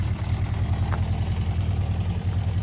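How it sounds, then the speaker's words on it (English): A Honda CB400 Four motorcycle engine idles steadily up close, its low exhaust note pulsing evenly throughout. "Just the exhaust note, not the flipping internals of the engine"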